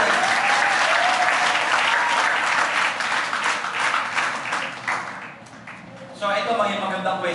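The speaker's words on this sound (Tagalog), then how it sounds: "palakpakan niyo nga Panginoon ngayon. Yung palakpak na excited." A church congregation breaks into lively, excited applause that fills the room, easing off slightly partway through before a louder burst of clapping returns near the end.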